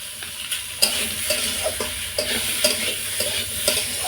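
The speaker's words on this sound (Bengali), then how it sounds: "শশাটা এই রকমভাবে আমি এখন কিছুক্ষণ নাড়তে থাকবো।" Ripe cucumber stirred in a hot pan, a spoon scraping and clinking in an irregular rhythm over a continuous sizzle of frying, close and fairly loud with no voices.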